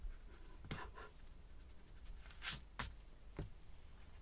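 A pencil eraser rubbing over paper while a pop-up card page is being made, heard as several short, quiet scrubbing strokes with pauses between them and no talk.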